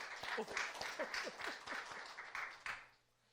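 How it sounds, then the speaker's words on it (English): A studio audience on a talk show claps to welcome a guest, a fairly quiet patter of applause with a few voices mixed in that fades out at the end. "You guys can clap."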